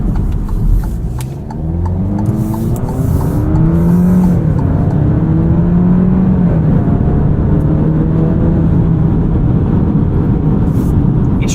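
A 2023 Alfa Romeo Giulia Estrema's engine pulls smoothly under acceleration through its 8-speed automatic, a steady hum rising in pitch, dipping at a shift, then climbing again beneath constant road and cabin rumble.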